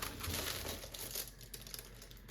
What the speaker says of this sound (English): Let's tape down all the rest of the foil in here.